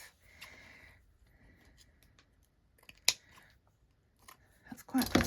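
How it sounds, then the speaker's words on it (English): Scissors snipping through fabric while making a no-sew embossed fabric envelope, several crisp close cuts separated by pauses, with handling rustle and a louder burst at the end. "Let's just cut it off."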